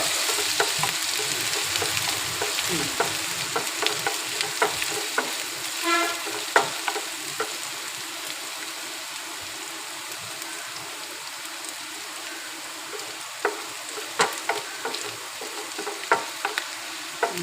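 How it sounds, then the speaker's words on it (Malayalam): Steady sizzling of food frying in a pan, with scraping and clinking as the contents are stirred, occasional louder spatters rising over the hiss. "എല്ലാം കൂടി നല്ലപോലെ വറുക്കണം"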